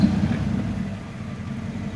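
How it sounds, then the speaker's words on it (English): A car fitted with a performance exhaust idles with a low, steady rumble, slightly louder at first, then settling to an even drone nearby. "Performance exhaust."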